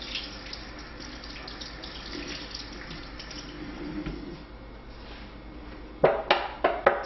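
Cold water runs from a tap into a container in a steady, soft hiss that continues for several seconds, ending in a few louder splashes and knocks at the end.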